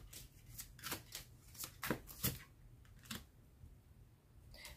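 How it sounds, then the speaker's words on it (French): A card drawn from a deck during a tarot-style reading: several crisp papery swishes and snaps of cards sliding and being handled, close and fairly quiet, with no talking. "je vais tirer une dernière carte"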